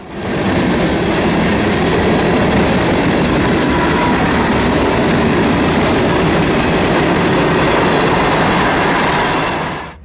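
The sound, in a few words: freight train with Union Pacific engines passing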